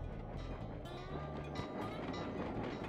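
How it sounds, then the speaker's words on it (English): A train rolls past in the Sly 2 Band of Thieves video game, a dense rumbling roar with rhythmic clickety-clack and metallic squeals, close and continuous for a few seconds. "That's a train."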